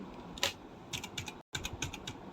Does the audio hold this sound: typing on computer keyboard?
yes